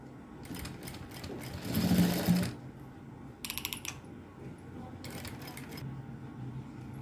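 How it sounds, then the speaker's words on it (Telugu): Sewing machine stitching a dart on a blouse, running in short bursts of rapid mechanical clatter separated by quieter pauses, close and clear with no talking. "ఇప్పుడు మనము ఇక్కడ నుంచి ఇక్కడికి డాట్ అనేది కుట్టుకోవాలి"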